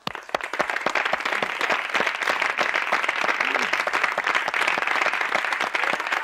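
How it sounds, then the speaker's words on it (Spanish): A crowd applauds steadily and warmly, dense clapping sustained evenly throughout with a few sharper close claps on top, no talking over it. "un fuerte aplauso"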